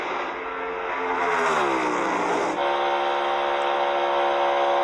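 NASCAR stock cars race at full throttle, with Denny Hamlin's car running wide open. Loud engine drone rises in pitch, then cuts sharply and settles into a steady high roar as the cars pass close by.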